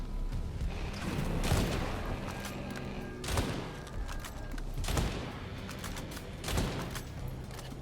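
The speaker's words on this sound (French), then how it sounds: "Il va gâcher ses obus, ses ogives là." In the space survival game Auroa, artillery shells and warheads detonate in a rhythmic series of four deep, booming blasts, each about every one and a half seconds over a constant rumbling background.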